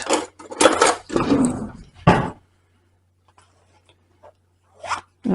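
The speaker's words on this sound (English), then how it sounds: "Scrape the bowl out" A spatula scrapes sticky treacle farl dough from the sides of a mixing bowl in a few close, rasping bursts, then goes quiet before one last short scrape.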